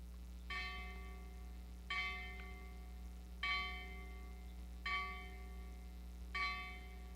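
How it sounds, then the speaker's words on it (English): Five evenly spaced strikes of a bell at a school commencement ceremony, each clear ring decaying slowly over a steady low hum, about one and a half seconds apart, with no talking. "We'll ring the bell now for those 5 Hyde words."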